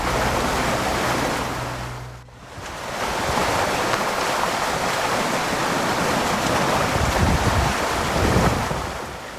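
Rushing floodwater on a river in Ruidoso, New Mexico, as a house breaks from its foundation, a loud, continuous roar with heavy wind buffeting the microphone and a brief dip in the noise partway through.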